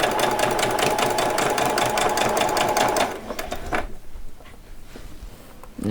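Sewing machine stitching a seam on a doll's saree, a close, steady whirring run for about three seconds that slows in a few uneven stitches and stops, leaving quiet handling noise.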